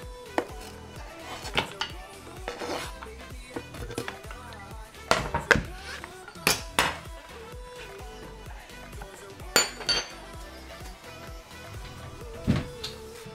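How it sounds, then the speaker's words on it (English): Onion mixed with utensils in a bowl, irregular knocks and scrapes of metal against the bowl at close range, with some light background sounds between them. "Then I'll mix with my onion."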